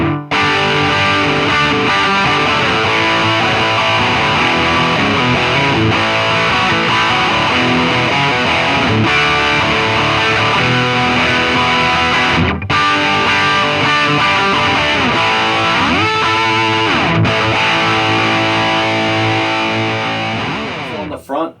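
A heavily overdriven electric guitar through a Soldano SLO Mini tube amp plays sustained, crunchy chords and riffs continuously, loud and saturated, with brief pauses between phrases.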